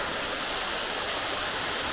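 Water runs and tumbles steadily into the Manning Gorge waterhole off the Gibb River Road, a dense, even rushing roar, close and constant with no voices.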